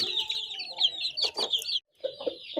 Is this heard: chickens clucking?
yes